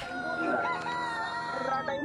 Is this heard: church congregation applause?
no